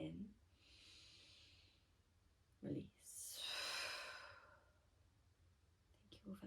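During a yoga flow, a person draws one full, audible breath in through the nose, then releases a long, airy exhale that swells and fades, close and quiet.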